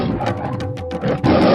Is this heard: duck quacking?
no